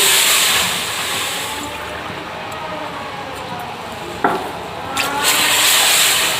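Water splashing in a steady rush as it is poured by the cupful into a pot of sugar syrup for biscuit ras pitha, loud and continuous with a brief lull partway through.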